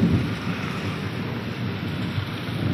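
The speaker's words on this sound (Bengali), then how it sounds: "ওই দিকটা দেখো কি বৃষ্টি।" Steady, dense rain roars without a break during a storm with lightning, with low rumbling underneath and no voices.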